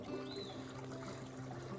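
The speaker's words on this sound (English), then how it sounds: "Well, here's our water source." A small stream at a water source on the Appalachian Trail trickles and pours steadily, a continuous close splashing flow with no voices.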